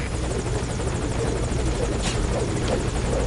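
A helicopter in the video game Metal Gear Solid Ground Zeroes gives a loud, steady rotor drone and engine roar that holds constant throughout, with no talk over it.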